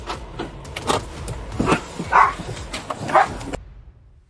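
A police dog barks repeatedly during a shouted arrest outside a car after a chase, giving several sharp, loud barks with quieter yips and whimpers in between over background noise.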